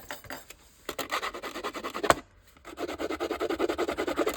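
Sandpaper scuffing the surface of a handmade journal cover, close rapid back-and-forth rubbing strokes in bursts with a short pause midway.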